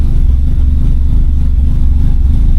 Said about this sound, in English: I'm gonna see if this idle clears up a little bit.